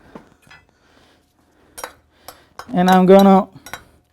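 Roasted beets being tossed with olive oil, salt and pepper, with a few light clinks of a utensil against a bowl and a short spoken phrase before the mixing.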